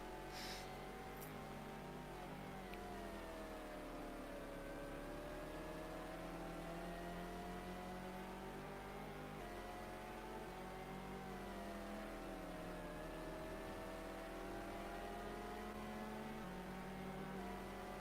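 Race car engines from GTR2 at a 24-hour Le Mans race, with an Audi prototype overtaking down the straight. Steady loud engine drone with rising and falling pitch sweeps as the cars accelerate and pass, no voices.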